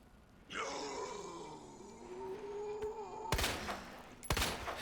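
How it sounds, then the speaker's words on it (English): Gunfire in a Resident Evil 2 randomizer video game, with a groaning creature cry followed by a couple of sharp shots cracking near the end. "I knew he was dead, but I was still so terrified I had to keep shooting."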